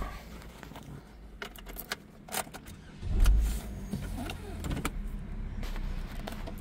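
A 2009 Chevy Cobalt LS with a four-speed automatic sets off with the windows down: quiet interior rumble and clicks, then the engine rises to a louder, steady drone as it gets moving.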